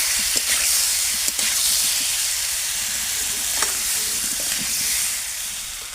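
Salted, pre-boiled new potatoes sizzle and fry in a pan for a Bengali niramish aloo dum. A steady hiss runs throughout, with a few faint scrapes and clicks of stirring and no talking.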